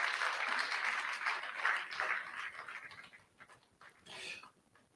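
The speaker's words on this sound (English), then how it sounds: "let's give her a round of applause." Conference audience applause, soft and somewhat distant, fading over a few seconds before a short second swell near the end.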